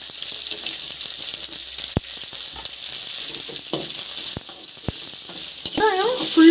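Onion sautés lightly in a pan for Japanese chow mein, with a moderate, steady sizzle, a few sharp utensil taps and a brief scraping stir near the close.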